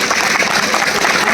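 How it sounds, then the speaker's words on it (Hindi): An audience claps together at a gathering, a dense, steady burst of applause that holds at full volume for a moment. "उसके लिए आप सब ताली बजाएं।"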